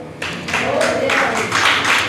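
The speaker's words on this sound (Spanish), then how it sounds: "Denle un aplauso al Señor." Church congregation applauding during an evangelical service, a dense burst of clapping that swells in waves, close and fairly loud, with voices mixed in.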